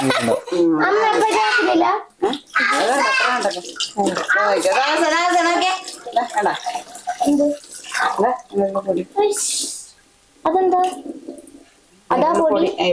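Water runs from a tap for cleaning while someone talks almost continuously over it, the splashing flow sitting underneath and showing more clearly in a brief pause.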